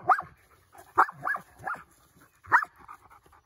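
A husky and a wolf dog wrestling, giving a string of short close growly barks and yips at irregular intervals with brief gaps between them.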